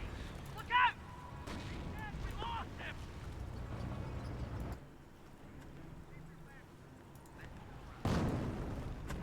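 A mortar half-track fires in the World War II strategy game Company of Heroes, with a few dull booms and crumps under a battle-noise bed and steady talk over the top; a sharper blast lands near the end.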